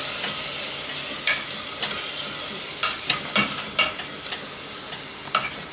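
Spice masala of turmeric, chilli and kasuri methi frying in oil, a steady close sizzle broken by occasional sharp spatula scrapes and clicks against the pan, with no talking.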